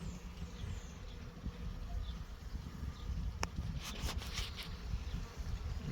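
Honey bees buzzing at a hive that has tried to swarm, a steady low hum close by, with a few brief clicks and knocks toward the end.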